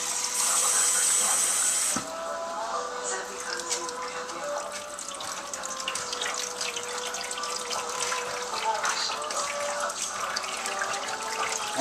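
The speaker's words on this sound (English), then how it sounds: "And then rinse it with cold water." Cold tap water running steadily through a strainer of whole red wheat kernels being rinsed for gluten, a continuous close splashing rush from start to finish with no talking.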